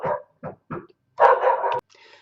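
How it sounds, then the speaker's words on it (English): A pet dog barks indoors at home, three short sharp barks followed by a longer rough bark and a faint yip, close and loud with no talking. "Apologise, that's my dog barking."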